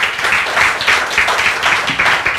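A church congregation at a Sunday worship service clapping to welcome a first-time visitor, a brief burst of dense, steady applause filling the room with no talking.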